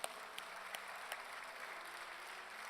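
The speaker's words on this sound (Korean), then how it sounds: "입술의 열매를 창조케 하신 하나님께 영광의 박수 돌리겠습니다" A church congregation claps together in steady, sustained applause that sounds faint and distant.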